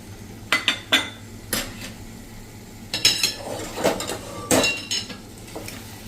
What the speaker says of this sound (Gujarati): હવે જે આપણે આ પનીર સાંતળ્યું છે ને એ પણ આમાં નાખી દઈએ અને મિક્સ કરી લઈએ